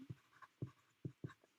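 Handwriting on a surface for a math lesson on multiplying fractions by the reciprocal: four short, soft scratching strokes spaced unevenly, close and quiet, with no talking.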